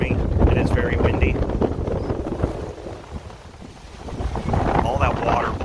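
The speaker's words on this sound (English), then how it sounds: "Hopefully you guys can hear me. It is very windy." Strong, gusty wind roars and buffets the microphone outdoors by a lake at Presque Isle, with mist blowing off the water, easing briefly midway before picking up again, with a voice speaking under it.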